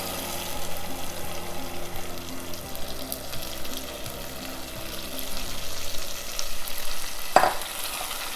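Tomato puree hitting crispy frying garlic in a pan for Nellore fish curry, a continuous sizzle with stirring scrapes and a sharp clatter near the end, no one speaking.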